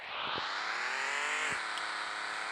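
A car driving in a car simulator video game, a continuous mid-pitched engine whine that rises slightly and then levels off, with two faint low thumps and no talk.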